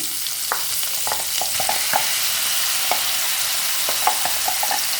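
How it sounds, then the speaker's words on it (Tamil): Capsicum and carrot frying in a pan as ground masala goes in, a continuous close sizzle with scattered clicks and scrapes of stirring throughout. "இப்போ நம்ம அரைச்சி வச்சுருக்க மசாலாவை இதை கொட்டிடுவோம்"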